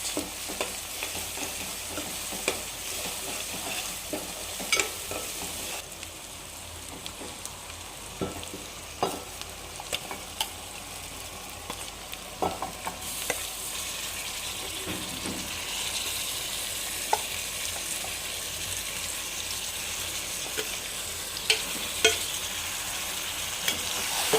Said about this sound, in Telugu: అల్లం వెల్లుల్లి పేస్ట్ వేసి కలుపుకొని చికెన్ వేసుకోవాలి